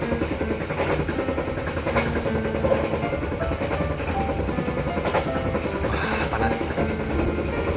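A Matarmaja passenger train runs from Jakarta to Malang, heard from inside the carriage as a steady, loud rolling rumble with faint repeated clicks and rattles from the rails throughout.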